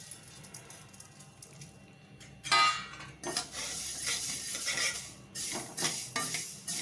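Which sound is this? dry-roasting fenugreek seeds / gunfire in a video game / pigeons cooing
dry-roasting fenugreek seeds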